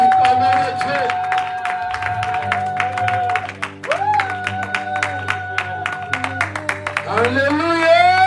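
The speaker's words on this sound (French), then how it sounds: "Nous appelons le pasteur Paul et nous acclamons pour lui." A church congregation applauds and cheers for Pastor Paul, clapping steadily throughout, with voices and music rising over the crowd.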